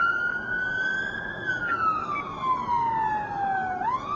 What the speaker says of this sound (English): I imagine the units up ahead might well hear the siren shortly